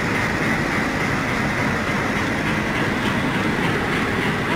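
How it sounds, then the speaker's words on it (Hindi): An Amritsar–Mumbai CST express train rolls along at a railway platform, a steady loud rumble and clatter of wheels lasting throughout with no pauses. "अमृतसर मुंबई छत्रपति शिवाजी टर्मिनस एक्सप्रेस कुछ ही समय में प्लेटफॉर्म क्रमांक 3 पर आ रही है"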